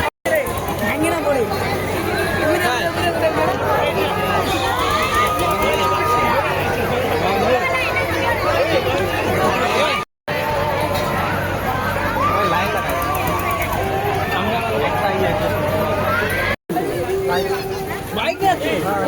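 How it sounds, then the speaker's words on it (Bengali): A dense festival crowd packs the street at the Ulto Rath chariot festival, a loud continuous babble of many voices chattering and calling out, close around the listener with no pause. "ও মাই গড, আবার এখানে প্রচুর ভিড়।"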